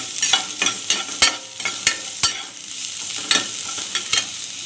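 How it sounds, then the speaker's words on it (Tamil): Chopped onions sauté in hot oil in a pan for a Tamil mochai kulambu, a close steady sizzle broken by repeated sharp scrapes and taps of a stirring utensil, with no speech. "எண்ணெய் ஆட் பண்ணதும் நான் கட் பண்ணி வச்ச வெங்காயத்தை ஆட் பண்ணிக்கிறேன்"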